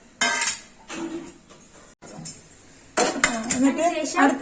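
A metal spoon scrapes and clinks against a plate in several bursts, close by, with brief pauses between scoops.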